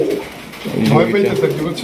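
Pigeons coo in a loft of fancy breeds, soft repeated throaty calls close by under a man's speech, with several birds overlapping.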